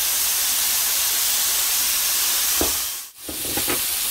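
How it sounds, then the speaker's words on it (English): Worcestershire sauce hits a hot pan with a steak searing, producing a loud, steady hiss and sizzle of steam that briefly dips before bursting back with crackling spatter. "I've got the steak cooking, and I'm going to go ahead and throw in some Worcestershire."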